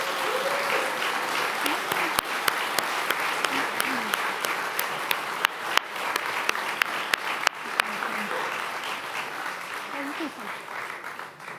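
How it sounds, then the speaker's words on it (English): Applause from the crowd at a community fiesta evening as staff come up, steady clapping with scattered sharp louder claps and some cheering, voices calling out over it. "I want you to just give them a round of applause as they come up"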